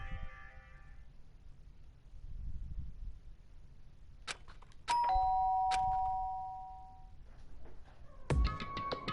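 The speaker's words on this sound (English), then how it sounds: "did I hear the doorbell?" A doorbell in the Danganronpa video game chimes with a clear ringing tone that lingers, followed later by a second sharp ding, set against quiet background hum.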